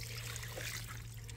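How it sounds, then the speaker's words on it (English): Irrigation water trickles down over rows of potted wasabi plants, a soft steady splashing dribble heard throughout over a low constant hum. "It goes in the top here, and as you can see, it trickles down on all the plants."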